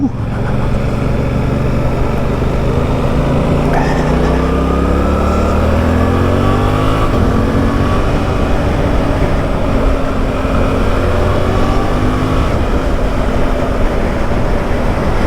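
Suzuki GSX-8R motorcycle engine pulling hard while riding, a loud continuous drone with rising and falling pitch sweeps as it revs through the gears, heavy wind roar underneath throughout.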